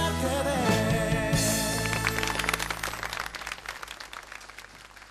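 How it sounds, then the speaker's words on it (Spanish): An audience claps for a colourful ballet performance on a television variety show; music fades out at first, then scattered, uneven applause rises and gradually thins toward the end. "Aplausos, aplausos para ese ballet colorido."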